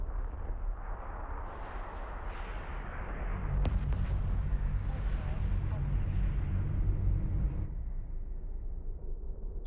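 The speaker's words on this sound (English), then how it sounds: "Explosions." Deep rumbling blasts and booms in the space game Eve Online, rising to a heavy roaring barrage midway with sharp cracks, then easing to a lower rumble.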